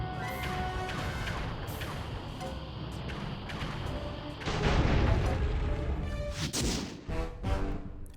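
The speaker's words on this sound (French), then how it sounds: "Genre il explose juste comme ça le masque" A boss's mask exploding in the video game Sly 3, a loud crashing burst over game music and effects, followed by a heavier rumbling boom and scattered debris hits.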